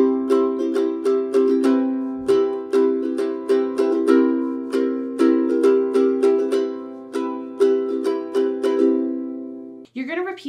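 A ukulele plays the strummed intro of a song with one strumming pattern per chord. Each strum rings out clearly and close in a steady, repeating rhythm, and a voice starts speaking at the very end.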